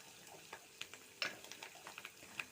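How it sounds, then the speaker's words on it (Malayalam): Turmeric powder frying in a pan for a Malayalam fish curry, stirred with a spoon. Faint sizzling runs throughout, with soft, scattered scraping clicks from the stirring and no voices. "ഒന്ന് ഇളക്കി കൊടുക്കാം."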